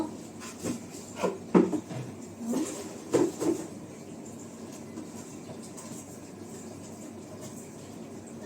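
A plate being scraped of leftover rice and washed in a home kitchen, a handful of close scraping and clattering strokes early on, then a quieter stretch of faint rubbing.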